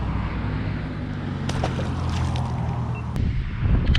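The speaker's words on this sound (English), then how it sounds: "As you can tell, the wind is ripping." Strong wind buffeting a fishing boat on coastal North Carolina water: continuous rumbling wind noise with water wash and a few sharp knocks against the hull, loud and close.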